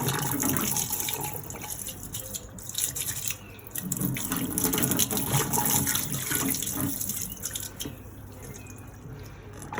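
Running water rinsing out a B80 brewing vessel, a steady loud rushing splash with dripping and gurgling shifts as the flow moves around, close by and continuous, no speech.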